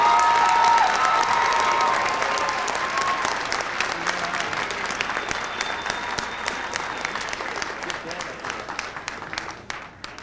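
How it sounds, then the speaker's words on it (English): An audience at an Art Institute of Seattle graduation ceremony applauds the culinary graduating class, loud sustained clapping with some cheers and shouts that slowly fades over about ten seconds. "Have a round of applause for the culinary class."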